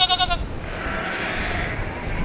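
A sheep lets out a wavering bleat at the start, followed by a steady low rumble of outdoor background noise.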